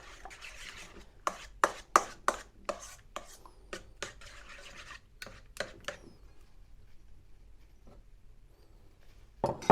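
An egg is stirred into a cheesecake batter in a bowl, giving a quick run of sharp clinks and taps from the spoon. A short pause follows, then one last tap.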